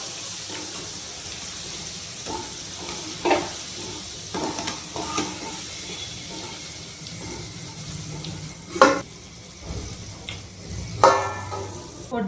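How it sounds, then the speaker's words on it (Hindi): Beans sizzle steadily in a pan while a spoon stirs and scrapes through them, with a few louder clanks against the pan over the constant frying hiss and no speech. "बीन्स भी हमारी देखो यहाँ हो गई है अच्छे से फ्राई"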